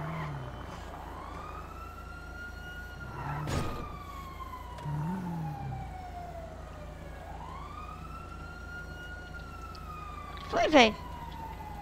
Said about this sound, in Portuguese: a polícia vindo atrás